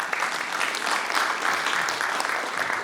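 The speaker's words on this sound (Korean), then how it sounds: "큰 박수 부탁드리겠습니다" Sustained, even applause from the audience at a formal panel debate on architectural design policy, many hands clapping together at a constant moderate level for about three seconds.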